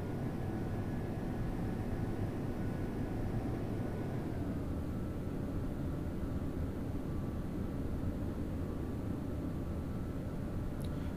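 Jet fighter engines rumble steadily while the aircraft taxis clear of the landing area on an aircraft carrier deck in the Vietnam-era flight sim Strike Fighters 2, a constant broadband roar with a faint tone that dips partway through.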